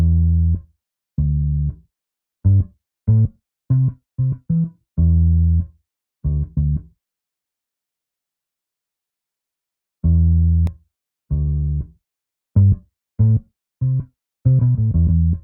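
A low, plucked retro 1960s guitar bass sample plays alone in short rhythmic notes of an Afrobeats beat, some held, with a pause of silence midway before the pattern resumes.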